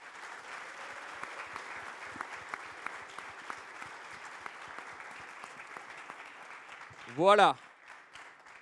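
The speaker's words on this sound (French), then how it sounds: "les applaudissements ont accompagné tout ça" Faint crowd applause rolls on steadily during MMA fighter introductions, a soft continuous patter of distant clapping, with someone briefly speaking near the end.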